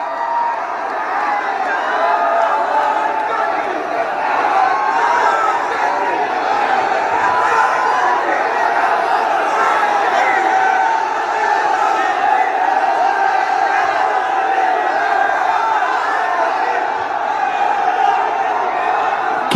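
A massive rally crowd chants for Rahul in loud, rhythmic unison, voices merging into a sustained roar that rises and falls with the chant and never lets up.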